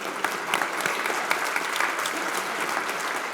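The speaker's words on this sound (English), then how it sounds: "Big round of applause for them." Audience at a leadership breakfast event applauding a sponsor, a full, steady burst of clapping from a roomful of people, close and even throughout with no speech over it.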